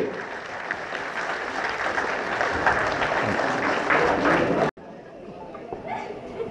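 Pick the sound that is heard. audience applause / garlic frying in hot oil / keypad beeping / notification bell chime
audience applause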